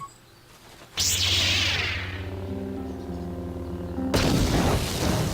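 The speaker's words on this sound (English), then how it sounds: "Frag grenade." Frag grenade detonating in Star Wars: Knights of the Old Republic, a sudden loud boom with a whooshing burst that rings and decays, followed by another sharp blast near the end, no talk.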